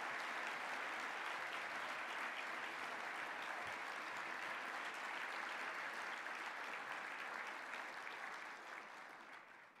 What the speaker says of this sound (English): So I want you to give them a big round of applause.